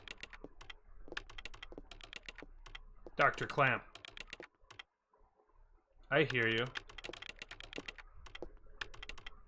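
Rapid keyboard typing from a video game taps out in quick bursts, fairly close and clear, with two short spoken lines interrupting and a brief pause in between.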